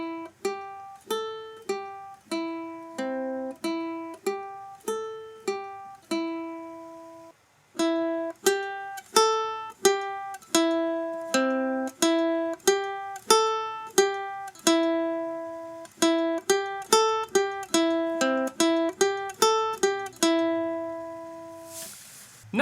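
A ukulele plays the opening section of a cartoon theme alone, as a lively string of bright plucked single notes in a bouncy, even rhythm, close and clear, with one short pause midway.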